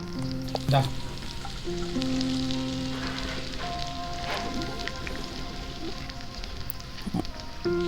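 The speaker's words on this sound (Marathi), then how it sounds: "मिरची झाल्यानंतर मी लगेच टाकतोय कांदा" Chopped onion frying for kande pohe, a steady close sizzle and crackle in a hot pan with occasional stirring scrapes, running continuously without talk.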